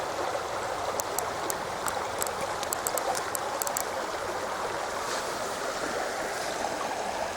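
Water flows along Floyd's Creek in a steady, full, close rush with no pauses, and a few faint high ticks sit above the constant babble.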